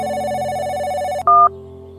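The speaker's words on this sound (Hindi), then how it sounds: "घंटी तो जा रही है" A steady electronic ringing tone sounds, as heard through a phone line, then switches to a brief, louder, higher beep.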